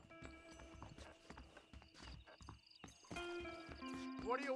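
Steady clip-clop of horse hooves pulling a coach in the video game Red Dead Redemption, a regular trotting rhythm close by, with a brief whinny near the end.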